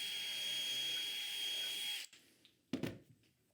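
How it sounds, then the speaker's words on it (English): A drill bores the final dowel hole in a wooden shelf held in a JessEm jig, an even motor whine lasting about two seconds before cutting off, then brief knocks and rattles of the tool being set down. "And drill the last one."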